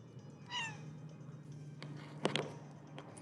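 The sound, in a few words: cat meowing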